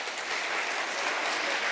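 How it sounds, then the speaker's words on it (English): Audience applauding at a live stage event, a dense, steady wash of clapping that stays loud and even throughout with no voices over it. "we have another chance for applause"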